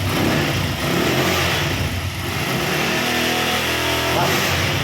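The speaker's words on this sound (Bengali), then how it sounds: "গাড়িটার সাউন্ডও শুনলে আমার খুব ভালো লাগে" A car engine, from a vehicle offered for sale at Singapore Motors in Maheshpur, Jhenaidah, runs steadily and loud close by, with its revving rising and falling throughout and faint rain in the background.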